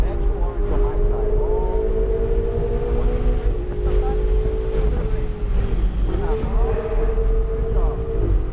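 A Ferrari 488 GTB at Sonoma Raceway accelerates at full throttle, a loud rising engine tone that climbs and drops with gear changes under heavy wind buffeting, with a voice speaking over it.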